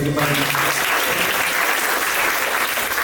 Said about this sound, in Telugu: గట్టి చప్పట్లేసి